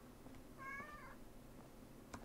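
A single drawn-out meow from a cat in a horror video game, clear but fairly quiet over a faint low hum, followed later by a soft thump.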